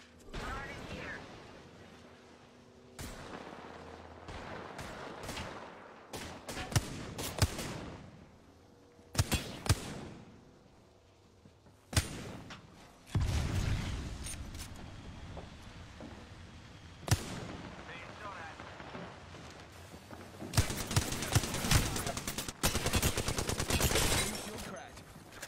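Gunfire in the Apex Legends video game: bursts of automatic weapon fire and single sharp shots, loud and irregular, with gaps between exchanges and heavier sustained bursts near the end.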